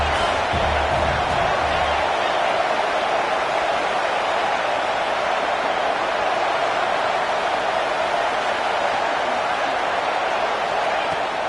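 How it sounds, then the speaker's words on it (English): Home crowd at a Stanford college football game, rendered in a football video game, roaring loudly and continuously as a dense wash of voices for the whole stretch, with faint low rumble at the start. "Man, this crowd really affecting the football game."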